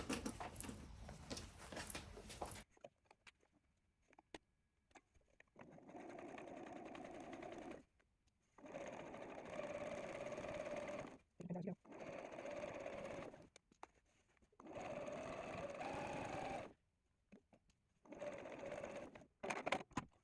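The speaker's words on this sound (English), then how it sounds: "So now we'll take that to the machine and we're going to top stitch that all the way down" Sewing machine top stitching joined quilt-as-you-go blocks, running in several steady bursts of rapid mechanical whirring and needle clatter separated by short pauses, close but quiet, with no talking.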